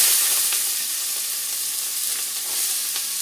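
Onions sautéing in olive oil in a pot after beef has been browned for a stew, giving a steady, close sizzle and crackle of frying with occasional stirring and no voices.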